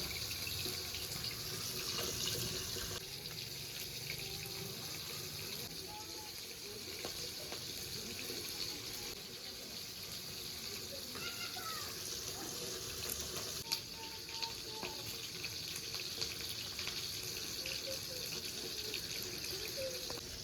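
Tap water runs steadily over cut bitter gourd pieces in a kitchen sink, a continuous faint splashing with occasional clinks, and soft talk underneath.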